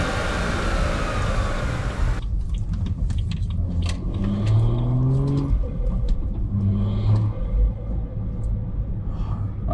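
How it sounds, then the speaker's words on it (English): A manual BMW 340i with a B58 engine on an MHD Stage 2+ tune roars up close, then revs in rising sweeps over a deep rumble with faint ticking, with no voices. "I love how I can still hear the injectors though."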